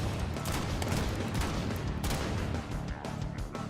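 The Redeemer weapon firing in the Warframe video game: dense bursts of shots and blasts follow one another steadily throughout, with no talking.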